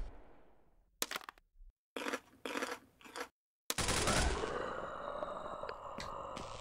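Gunfire crackles in the survival video game Dread Dawn: sharp bursts of shots cut in and out in short volleys, followed by a louder sustained roar of noise, with no voices.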